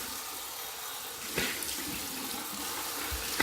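Cold water pours from a bathroom tap for a face rinse, a steady close rush with a few light splashes as hands pass through the flow; no speech.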